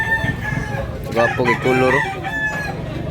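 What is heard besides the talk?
rooster crowing and clucking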